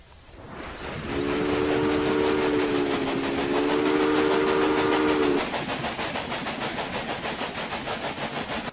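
A locomotive in the railway-building game Railway Empire rolls along its line with a steady rumble, a sustained two-tone horn blowing for several seconds before fading back to the rhythmic clatter of wheels on track.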